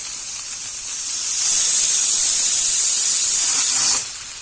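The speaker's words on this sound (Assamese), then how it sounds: "এটা লাগিল চিটি আৰু এনেকৈ দুবাৰ হ'লে মই অফ কৰি দিম হিটাৰটো" A pressure cooker releasing steam through its whistle in an Assamese kitchen, a loud sustained hissing jet that swells in, holds for a few seconds, then cuts off, with quieter hiss before and after.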